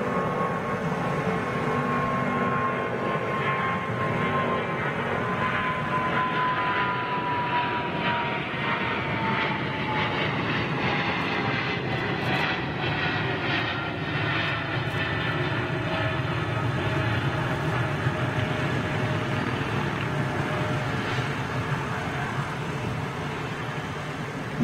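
A jet airliner takes off at London Heathrow Airport, its engine roar loud and sustained throughout with a slowly falling whine as it climbs away, no voices.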